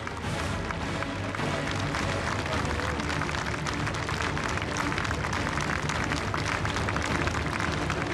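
Applause for special forces troops at an Armed Forces Day ceremony, a steady, dense wash of crowd clapping and cheering from a large outdoor audience that holds level throughout, with an announcer's voice beneath.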